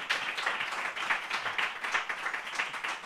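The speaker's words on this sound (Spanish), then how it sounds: "Fuerte aplauso para él." Comedy show audience claps in a fairly quiet, steady patter of applause with uneven pulses, heard at some distance.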